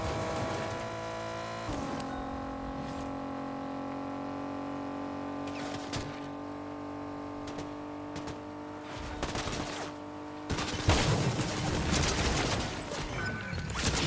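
Rapid gunfire and explosive blasts from a DOOM-themed shooter video game, sounding as dense fusillades over steady background game audio, growing louder and more chaotic toward the end.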